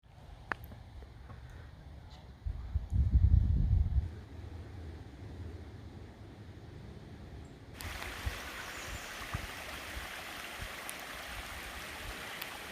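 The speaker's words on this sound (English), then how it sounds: "So I'm happy to find some flowing water." Flowing stream water along the Appalachian Trail in Connecticut, a steady broadband rush heard throughout, with a brief louder low thump early on and a brighter, hissier wash in the later part.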